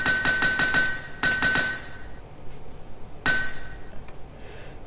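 Metallic anvil-style hammer strikes from repairing tools in the Minetest video game ring out in quick bursts: a rapid run of five clinks, then three more, a pause, and one final ringing hit, clear and close with no talk.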